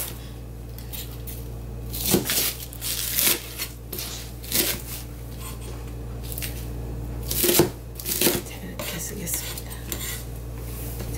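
A knife cuts green onion (daepa) on a cutting board for soybean sprout japchae, giving a few separated chopping clusters with quiet gaps and no talk.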